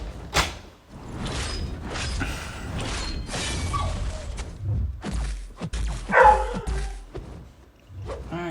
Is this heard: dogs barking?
yes